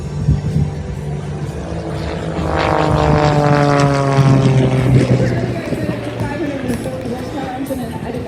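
The Rooster aerobatic plane's 260-horsepower 540 engine drones loudly as it crosses in front during an air show, the propeller tone rising and swelling at its peak pass before easing off, with an announcer talking over it.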